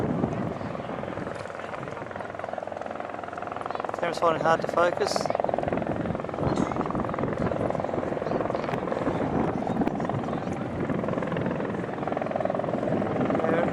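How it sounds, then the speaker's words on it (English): A helicopter comes in over a tarmac rally event near Perth, Western Australia, its steady rotor and engine drone sustained throughout at moderate distance, with a person talking over it. "So amongst here will be helicopter coming in."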